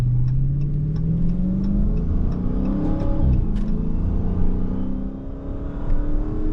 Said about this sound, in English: I know y'all hear that supercharger